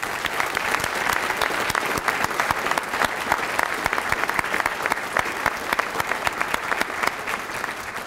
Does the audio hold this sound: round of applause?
yes